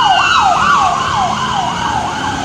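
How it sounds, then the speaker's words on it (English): Loud, repeating wail of sirens from about six police cars, cycling rapidly up and down in pitch, close by over road traffic noise, with no talking. "There's like 6 police cars."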